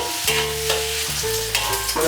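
Pork belly slowly fries and renders its fat in a wok, a steady close sizzle with crackling pops and faint stirring scrapes throughout.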